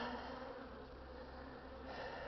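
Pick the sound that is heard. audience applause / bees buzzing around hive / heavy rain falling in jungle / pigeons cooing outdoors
bees buzzing around hive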